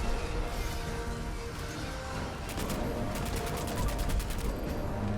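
Handmade rifle firing in the video game Fallout 76, a rapid burst of repeated shots in quick succession over a dense, loud game soundscape, close and continuous.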